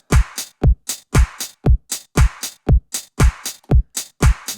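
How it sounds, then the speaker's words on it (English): A drum-machine pop beat plays steadily and loud: booming kicks alternate with sharp claps on the backbeat, and crisp hi-hat ticks fill the gaps in a tight, even pulse with no voices. "the clap is a standard backbeat on beat 2 and beat 4"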